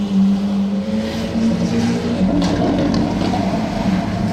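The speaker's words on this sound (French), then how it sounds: "On va la suivre un petit peu, elle fait un bruit de malade." A Lamborghini Aventador's engine roars steadily and loudly as the supercar passes on a street in Monaco, a sustained deep growl that surges slightly toward the end.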